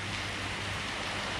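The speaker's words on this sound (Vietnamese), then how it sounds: "Là biết mưa lớn nó cỡ nào." Heavy rain on a Honda CB1000R motorcycle ride at night toward Da Lat, a dense, steady hiss of downpour filling the whole short stretch with no break.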